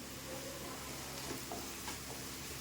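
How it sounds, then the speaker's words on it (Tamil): Onions sauté in a pan with salt, giving a soft continuous hiss with faint stirring scrapes, heard alone. "வெங்காயம் வதங்குறதுக்காக கொஞ்சம் உப்பு போட்டுக்கிறேன்"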